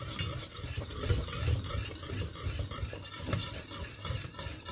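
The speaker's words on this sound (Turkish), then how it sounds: "Şu döktüğüm domatesi de bir kavurayım." Tomatoes sauté in a pan for tomato soup, with a soft sizzle under repeated scraping and stirring strokes from a utensil, close and continuous, no voices.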